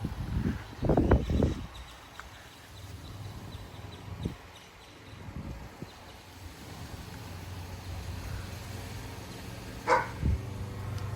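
A dog barks outdoors during a windy severe weather outbreak, a quick burst of several barks near the start followed by a couple of isolated yelps, set against steady gusting wind.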